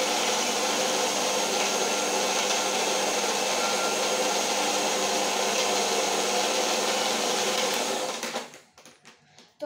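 A blender whirs loudly and steadily while blending a strawberry shake with ice cubes, then winds down and stops near the end, leaving a few faint clatters.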